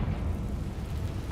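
A Bombarda blasting spell goes off in Hogwarts Legacy, a dense, rumbling low boom that fills the whole short moment at steady loudness with no pause.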